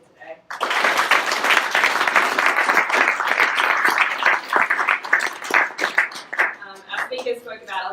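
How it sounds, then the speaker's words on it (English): A conference audience at a 3D Heals Melbourne bioprinting session gives the speakers a round of applause. It starts abruptly with full, dense clapping, then thins into scattered claps that fade toward the end. "we have a quick round of applause and a big thank you to all of our speakers here today"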